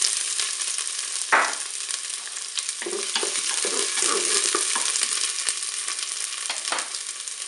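Onion pieces sizzling in a Cookeo pot on browning mode, a dense close crackle with a sharp burst as they hit the hot surface, then steady frying with occasional stirring clicks.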